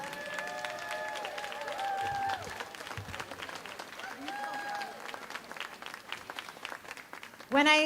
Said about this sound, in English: We can start the applause now.